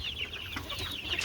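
Desi chickens and chicks clucking on a poultry farm, giving soft, faint high cheeps and short clucks in a steady, busy stream over low background noise.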